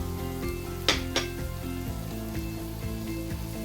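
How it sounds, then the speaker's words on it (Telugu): Sesame and cumin seeds hit hot oil for an ivy gourd chutney and set off a loud, steady sizzle with crackling pops and a brief stirring scrape, without any talking. "అది పేలే టైంకి ఇదిగోండి నువ్వులు వేసేస్తున్నాను."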